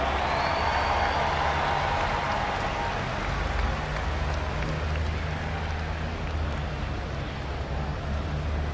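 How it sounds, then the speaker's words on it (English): Arena crowd at Freedom Hall tractor pull in Louisville giving a long, even round of applause, dense rain-like clapping that stays steady from start to finish. "Let's give him a nice round of applause."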